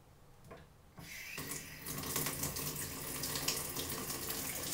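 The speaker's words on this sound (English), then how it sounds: "we're going to turn on a water faucet here" A water faucet is turned on around one second in and then runs in a steady, close splashing stream into a sink, growing slightly fuller, with no speech.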